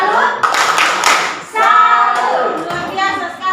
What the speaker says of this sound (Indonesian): mari kita berikan tepuk salut untuk mereka